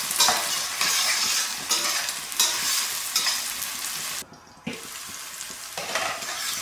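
Onions and air-fried potatoes sizzle in a hot pan while being stirred, with steady close frying hiss broken by rhythmic surges from the stirring and one brief pause.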